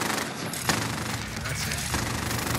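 Rapid bursts of gunfire in the Call of Duty Warzone video game crackle densely and close, a few sharper shots standing out, with voices calling out over the barrage.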